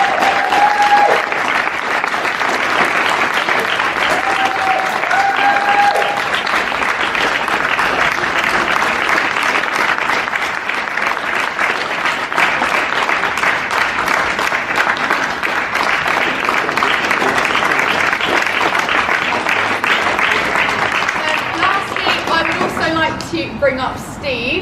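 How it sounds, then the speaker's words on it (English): Audience at a London Fire Brigade passing-out day gives a long, sustained round of applause for two volunteers, steady dense clapping that carries on loudly for over twenty seconds. "if we can have a huge round of applause for them"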